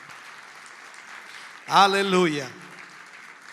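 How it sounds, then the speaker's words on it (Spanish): A church congregation claps in praise during a worship service, a steady wash of clapping that carries on throughout. A voice calls out loudly over it for a moment. "Fuerte ese aplauso de alabanza al Señor"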